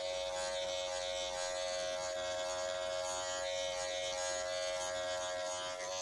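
Wahl hair clippers with a 0 guard and the taper lever fully open cut a fade into the back of someone's hair, giving a loud, steady electric buzz with a strong even hum that holds throughout.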